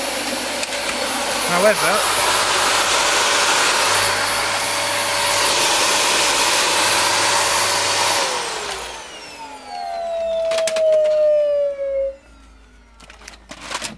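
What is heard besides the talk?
Dyson vacuum cleaner running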